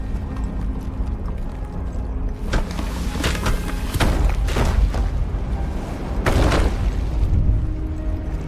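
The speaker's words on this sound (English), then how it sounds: "You fall to your knees as the statue starts crumbling, the cracks joining up to destroy everything underneath you." Crumbling, collapsing statue in the video game GRIS, heard as a series of deep booms and cracking bursts over a low rumbling bed, several heavy impacts spaced a second or so apart.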